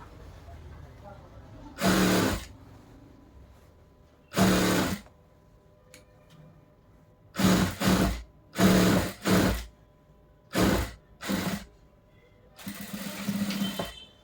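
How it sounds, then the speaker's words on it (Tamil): A sewing machine stitches a frill on a frock in seven short, loud whirring bursts separated by quiet pauses, with faint background noise between runs. "அப்படியே இப்படி ஸ்ட்ரெயிட்டாக பக்கத்து தையல் போடுறீங்க."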